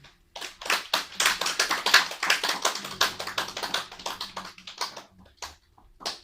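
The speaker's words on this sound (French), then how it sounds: "Est-ce qu'on peut applaudir pour ça?" A church congregation breaks into applause, a dense burst of many hands clapping close by that holds strongly, then thins out and trails off into a few scattered claps.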